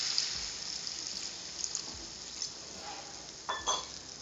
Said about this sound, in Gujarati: તો હવે આપણે આની અંદર થોડુંક એવું પાણી નાખી દઈશું, એટલે જેમ કે અડધો ગ્લાસ જેટલું પાણી નાખશું આપણે.